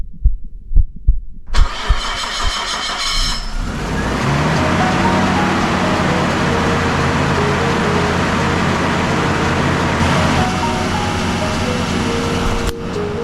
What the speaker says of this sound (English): I think the car's ready to start.